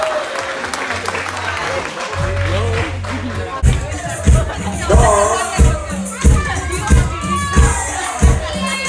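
Wedding guests burst into loud applause and cheering, with rhythmic clapping surging in waves over festive music and crowd chatter, an emcee's voice calling out through it.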